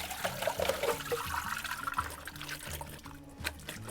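Water drains from large diced potatoes, a soft continuous trickle and splash that gurgles faintly and tapers off toward the end.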